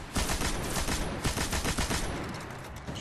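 Heavy weapon fire with strong recoil in the Destiny video game, a steady rapid burst of loud shots for about three seconds that eases off slightly at the end, with no talk over it.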